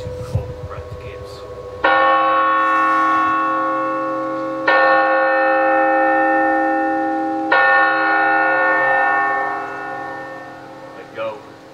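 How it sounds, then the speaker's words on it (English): A church bell tolls three times, each deep, resonant stroke ringing out loud and lingering in a long decay before the next, at slow even intervals, with no voices over it. "The bell invites me."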